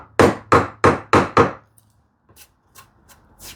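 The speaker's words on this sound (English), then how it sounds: "This is wiry grain, so it's not behaving properly. So I don't want to chop too much this way." A hand chisel chops into wiry-grained wood with five sharp, evenly spaced strikes up close, followed by a few faint scraping taps.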